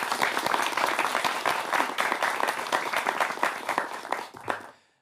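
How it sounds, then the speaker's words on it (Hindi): A crowd applauds young participants at a public discussion, a dense and steady round of clapping that fades out at the end. "इनके लिए भी तालियां होनी चाहिए"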